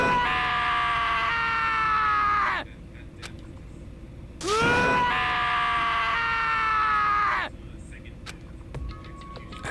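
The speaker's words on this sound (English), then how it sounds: "As Taka's sad screams invaded our skulls" Taka, a character in Danganronpa: Trigger Happy Havoc, lets out two long, drawn-out wailing screams. The screams are loud and sustained, with a brief quieter gap between them.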